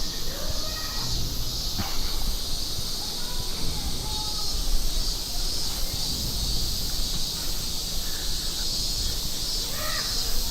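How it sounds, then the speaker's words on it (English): Summer cicadas (semi) drone in a continuous, high, hissing buzz across a street in Harajuku, Japan, steady throughout with faint background noises and a crow's caw underneath. "insects, like cicadas, you know, from maybe from Greece or something, and they create those crazy noises"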